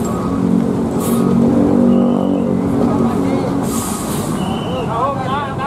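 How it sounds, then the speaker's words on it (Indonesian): An Agramas intercity bus pulls out of a bus terminal, its loud engine rumbling and revving steadily nearby, with a brief air-brake hiss and a nearby voice speaking over it. "Dan ini bis selanjutnya yang diberangkatkan ada Agramas BM031."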